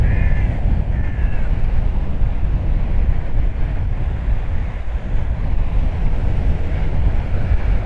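A crow caws a couple of times near the start by a choppy sea, loud against constant wind buffeting and the rush of surf that fills the rest.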